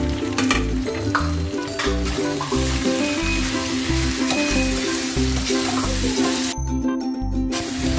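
Pork sisig sizzles loudly and steadily in a hot pan as long chilies go in, a dense continuous frying crackle with stirring scrapes, close and alone with no talk.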